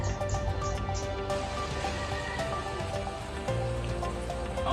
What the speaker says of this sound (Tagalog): Patuloy na lumalakas pa ang ulan, bugso ng bagyong Potpot.